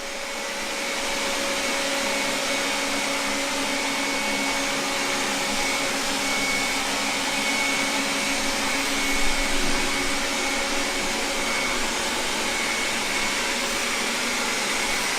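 Two robot vacuums, a Roborock S50 and a 360 S6, run together across a parquet floor with a steady, close, continuous motor whir and hum that holds level throughout, with no talking.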